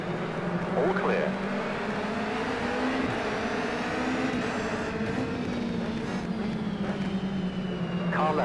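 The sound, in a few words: race car passing on the left in a racing video game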